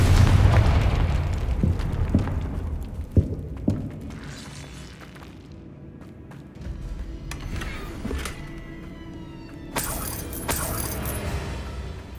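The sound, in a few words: Confringo blasting curse explosion, Hogwarts Legacy video game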